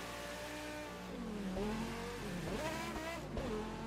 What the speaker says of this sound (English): This car is arguably one of the best sounding V10s in existence next to the Lexus LFA